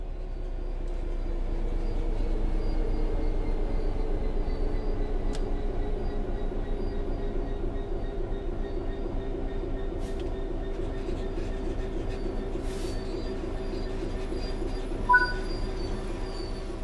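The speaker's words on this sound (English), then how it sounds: "The train will then coast on level ground, and the train will only slow down very gradually." Train coasting on level track in the Train Sim World 3 video game, a steady low rumble of wheels and running gear that holds constant throughout, with a faint squeal and a small clunk near the end.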